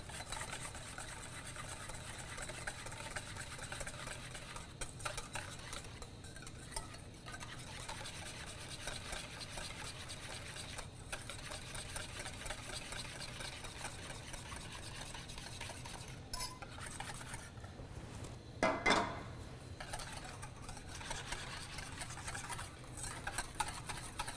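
Melting chocolate is stirred in a pot with a utensil: quiet, continuous soft scraping and swishing strokes, with one sharper scrape partway through.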